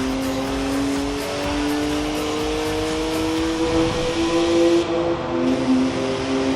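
A McLaren Senna engine in the Forza Horizon 4 racing game holds a loud steady drone with slowly rising pitch as the car accelerates on a highway, dominant throughout with no talking.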